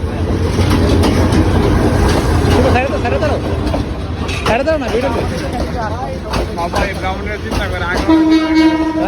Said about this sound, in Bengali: ফাইনালি ট্রেন এসে পড়ছে